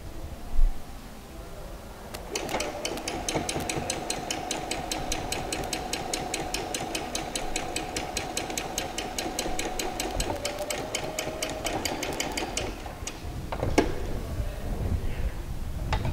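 A sewing machine stitches a shorts seam, running steadily at close range with a fast rapid needle rhythm for most of the stretch before stopping near the end.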